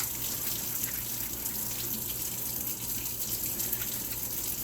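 Norwex cloths rinsed and rubbed under running water, the tap splashing in a steady close broadband rush with no voices.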